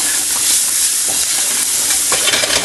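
Onions with black pepper sizzling loudly in hot oil, a dense close hiss of frying with scattered stirring clatter throughout, no voices.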